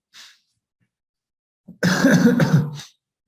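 A short breath, a pause, then one harsh, rasping cough close to the listener, lasting about a second.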